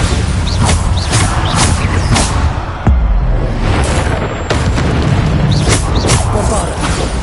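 Repeated Bombarda spell blasts in Hogwarts Legacy: heavy booming impacts and crashes land at irregular intervals over a dense, continuous wash of combat noise, loud and close throughout.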